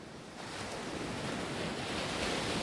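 Icy ocean waves wash steadily around a small boat in cold wind and rain, a continuous broad rushing surge that swells slightly louder toward the end.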